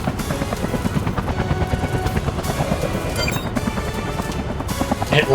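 A helicopter in the video game Front Mission 3 Remake thumps steadily with fast rotor chop, loud and close, ending with a brief burst of noise.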